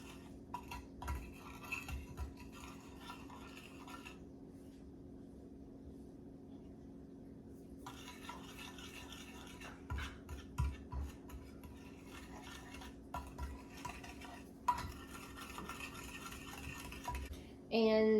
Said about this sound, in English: I'm going to whisk this all together. The sugar, the flour, salt, and baking powder.